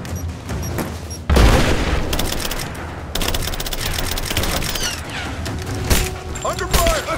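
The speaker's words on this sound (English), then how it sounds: "Laying down covering fire!" Heavy, sustained gunfire crackles in Rise of the Tomb Raider, with a loud boom that opens a dense stretch of rapid automatic shots and continuing volleys, all loud and close.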